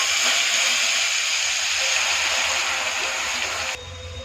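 Bay leaf and garlic fry in hot oil, making a loud, close, bright hiss that holds steady and then drops abruptly near the end.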